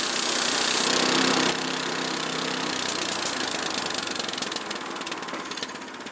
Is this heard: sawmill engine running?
yes